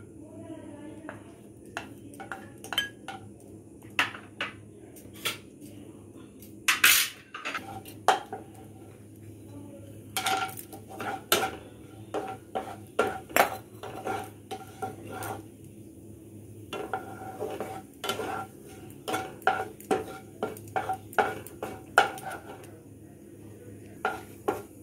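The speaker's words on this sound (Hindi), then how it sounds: "अब हम इसमें 2 चम्मच घी डालेंगे। और हमें ड्राई फ्रूट्स को भून लेना है।" Dry fruits are roasted in ghee in a hot kadai, with irregular metallic scrapes and clinks of a spoon stirring against the pan over a faint low sizzle, close and intermittent.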